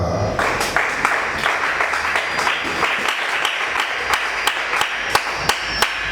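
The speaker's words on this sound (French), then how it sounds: "Acclamez Chana." Church congregation applauding during a service, steady rhythmic clapping from many hands with sharp regular claps cutting through, sustained and fairly close throughout.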